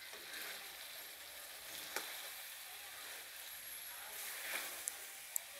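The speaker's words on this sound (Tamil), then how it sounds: "லைட்டாக பரட்டி விட்டுக்கலாம்." Chili powder is stirred into country chicken masala frying in a pan, giving a soft, steady sizzle with a few faint scrapes and clicks of the spoon against the pan, heard close but quietly.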